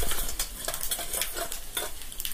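Mustard seeds crackle and sizzle in a hot pan with gram flour, with spatula scrapes and light clinks of utensils against the pan, close and continuous, no voices.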